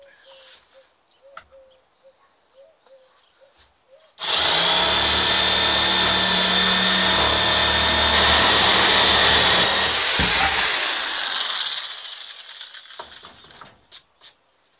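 Electric saw powering up and cutting wood for a small insect hotel, a loud steady whine lasting about eight seconds with a brief dip partway, then winding down and stopping, with quiet handling sounds before and after.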